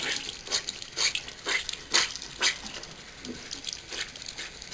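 Tepid tap water splashes while a makeup sponge is rinsed and squeezed under the stream, giving close, irregular bursts of splashing and dripping with no talking.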